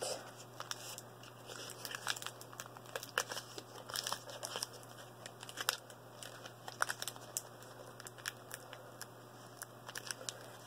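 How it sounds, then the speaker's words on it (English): Tape is torn and pressed along the seam where two pieces of cardboard meet: crisp intermittent crinkles, rips and sticky crackles, close and fairly quiet, with no voices. "you just tape a piece of tape on either side where the two pieces of cardboard meet"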